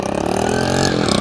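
A chingchi-type motorcycle engine runs steadily close by, a loud continuous throbbing hum with no talk over it.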